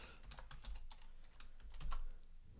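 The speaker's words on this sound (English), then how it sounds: "So here, I'm just going to type a function." Someone types code on a computer keyboard, soft rapid key clicks in quick irregular bursts, close and quiet, with no talking.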